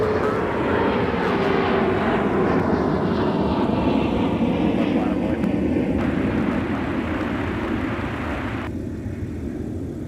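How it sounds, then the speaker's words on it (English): A Boeing 747-8 freighter flies over at 35,000 feet, a steady, broad, distant roar that holds evenly throughout and thins slightly near the end. "we were going to get another flyover of a 747"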